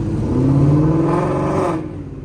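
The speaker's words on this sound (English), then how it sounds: "do some downshifts for you guys just so you can hear what this car sounds like" A straight-piped Ford Mustang GT 5.0 V8 engine revs and drops through a downshift, a rising and falling growl that cuts off abruptly near the end.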